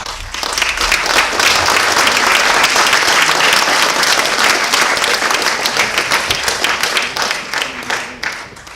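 A crowd applauds at a film festival award ceremony, producing dense, sustained clapping that holds steady for several seconds before tapering off at the end.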